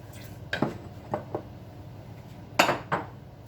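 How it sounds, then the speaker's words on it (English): Fruit is stirred into cake batter in a bowl, with a handful of scraping clinks and knocks of a utensil against the bowl in irregular bursts over a quiet background, with no speech. "And we're going to add our fruit. Stirring well to combine it all."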